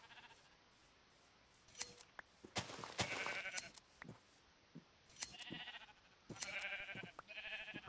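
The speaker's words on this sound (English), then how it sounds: "Wow, there are lots of sheep out here." Sheep bleating in a Minecraft FTB game world, several short bleats scattered among clicks and snips, fairly faint and close, with no talking over them.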